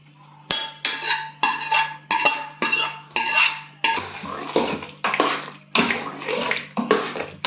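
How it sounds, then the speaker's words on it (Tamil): Cooked vegetables go into a pot of sambar with a metal ladle: about a dozen rhythmic scraping clinks against the pot, each about half a second apart, close and fairly loud. "இப்போ நம்ம இந்த வெந்தக்காயை இதில் ஊற்றிடலாம்"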